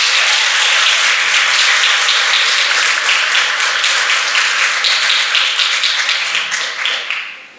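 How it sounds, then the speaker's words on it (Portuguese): Loud, dense applause and clapping from an audience at a traditional Amazonian music gathering, sustained for several seconds before fading out at the end. "Eu peço aí uma salva de palmas para o Newton Bararu"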